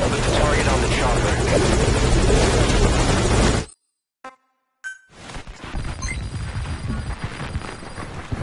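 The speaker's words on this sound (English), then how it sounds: "Put the target on the chopper." A helicopter in the Metal Gear Solid 5 Ground Zeroes video game roars loudly and steadily with a dense, whirring rotor drone, cuts out briefly, then continues at a lower level.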